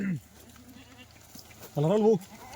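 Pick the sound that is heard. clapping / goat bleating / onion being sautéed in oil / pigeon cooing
goat bleating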